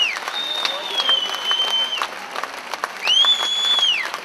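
An open-air concert crowd at Siófok's Kálmán Imre stage greets a singer with applause: dense clapping over a crowd murmur, cut through by long, high, sustained whistles near the start and again toward the end.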